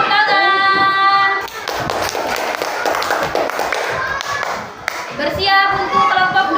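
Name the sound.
children clapping in a classroom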